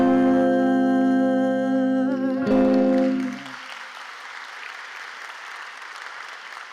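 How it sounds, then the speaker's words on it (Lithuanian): At a teachers' award ceremony, a sustained musical chord rings for a few seconds and then cuts off, leaving a steady wash of audience applause that continues evenly to the end. "Taip pat aplodismentai Justai."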